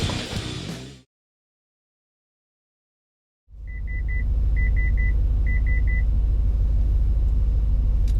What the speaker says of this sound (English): There's the cross traffic alert alarm if you never heard that before.